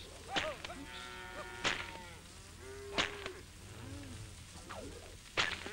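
Shorthorn cattle in a droving mob lowing at a distance, several drawn-out moos rising and falling across the span, interspersed with soft dull knocks and faint background rumble.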